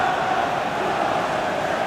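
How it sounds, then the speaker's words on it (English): Crowd noise in a Premier League football simulation of Manchester City against West Ham, a steady, broad stadium roar of murmuring and grumbling fans with no individual voices standing out. "You can hear the annoyance in the crowd"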